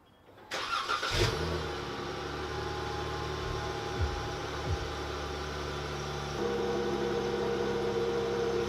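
A V6 Dodge Challenger with stock exhaust cold-starts: a brief starter whir and catch, then a steady, fairly loud idle recorded from behind the car, rising slightly in pitch near the end.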